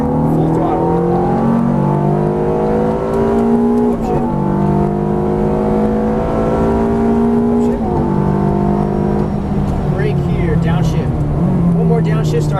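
A Ferrari F430 F1 accelerating hard on a racetrack, its engine rising through repeated upshifts in steady loud pulls, heard from inside the car beneath continuous road and wind noise.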